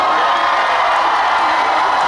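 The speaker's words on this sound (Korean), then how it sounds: "여러분들의 박수가 필요합니다." Crowd at an outdoor concert during the Daejeon midnight summer festival cheers and applauds, a steady, dense wash of crowd noise with no pauses.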